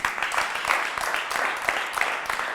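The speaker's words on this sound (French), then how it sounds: "J'aimerais qu'on applaudisse pour ça." An audience at a French interview show applauds, a steady patter of many hands clapping at moderate distance, fairly soft, with faint voices mixed in.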